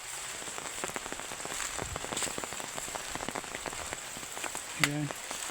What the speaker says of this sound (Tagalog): Mahirap siya kasi umuulan.